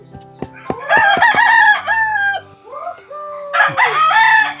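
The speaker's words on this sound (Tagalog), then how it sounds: "May nauna ng manok ko" Chickens kept at an old family house: a rooster crows loudly and close, several strong harmonic calls in succession with sharp clucks at the start and another crow near the end, heard alone without talk.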